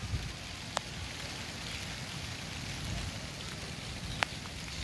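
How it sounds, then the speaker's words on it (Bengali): Steady rain falls on a pointed gourd field in Mohadevpur, Bangladesh, a soft, even hiss throughout with a couple of sharper single drop ticks and no talking. "এই যে দেখুন বৃষ্টি হচ্ছে এখনো"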